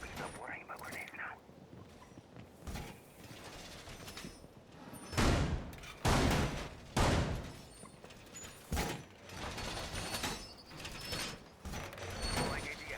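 Razor wire being unrolled in Rainbow Six Siege: mechanical ratcheting and rattling with several loud bursts, under quiet in-game voice lines.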